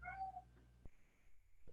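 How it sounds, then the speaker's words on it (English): A pet cat gives a short, faint meow at the start, followed by a few soft clicks and a quiet tonal hum in an otherwise hushed room. "My cat, it sounds like the cat saying help, doesn't it?"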